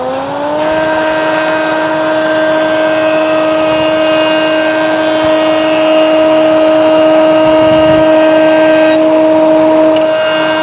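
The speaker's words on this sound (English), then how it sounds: "Let's see how the dust collector takes care of it." A Shopsmith DC-6000 dust collector runs loud and steady, its motor holding a constant tonal whine with a strong hum after a brief spin-up at the start, alone with no voices.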